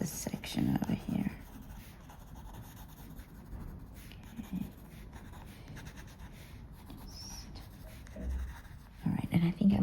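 Colored pencil, including Prussian blue layered over black, rubs and scratches across paper in a steady soft scraping texture, faint and close, with a few brief spoken words in between.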